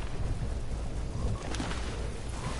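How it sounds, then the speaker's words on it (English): A thunderstorm rolls through a Fortnite match as a dense, steady roar of rain and low rumbling thunder, loud and unbroken for the whole stretch with no voices over it. "Oh, that is a storm coming."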